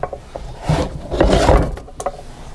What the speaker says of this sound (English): Stir it up a little bit.